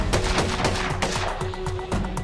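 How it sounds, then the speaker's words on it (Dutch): Rapid gunfire at a police weapons instructor shooting training, a dense string of loud, close, sharp shots fired in quick succession with brief irregular gaps. "In deze opleiding zijn we vooral veel aan het schieten."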